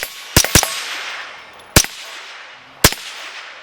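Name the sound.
suppressed rifle gunfire at the range, Griffin Armament Checkmate HD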